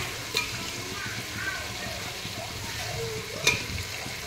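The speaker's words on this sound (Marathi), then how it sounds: "याच्यामध्ये मी आता चिकन ॲड करणार आहे" Chicken pieces sizzle steadily in hot oil in a cooking pot, a constant close frying hiss broken by a couple of sharp clinks of a utensil against the pot.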